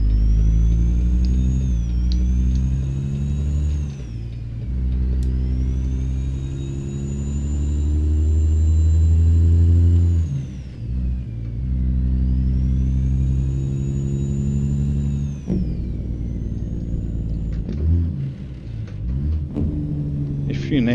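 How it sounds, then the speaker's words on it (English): Truck engine revving on the Jake brake, loud and close, with deep harmonic rumbles rising and falling through repeated rev cycles and a high whistling tone riding on top. "I never realized this one looks or sounds so great if you rev it on the Jake"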